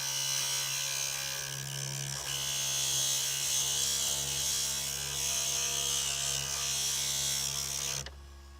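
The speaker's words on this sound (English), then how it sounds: "now there's some nicks in the side of the head that I just need to grind a little bit to smooth them out" A power grinder smooths nicks off the side of a carved wooden turtle head. It runs loudly and continuously with a steady hum, then cuts off abruptly near the end.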